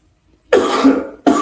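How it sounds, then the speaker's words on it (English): A single harsh, loud cough close by, followed by the start of another cough right after a short pause. "Coughing like a crusty old Marine"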